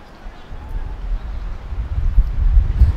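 Wind gusts blow across an outdoor football pitch during a match, a steady low rumbling buffet that swells louder toward the end, with a commentator talking over it.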